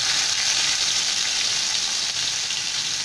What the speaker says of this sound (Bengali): এখন এর মধ্যে আমি দিয়ে দেব পেঁয়াজ